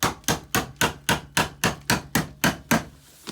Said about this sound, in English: let's get a screwdriver and hit her with a hammer